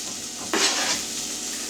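Garlic hits a pan of softening, turning-translucent onion and a sharp sizzle bursts up, then settles into a steady frying hiss with a light stir; nobody speaks.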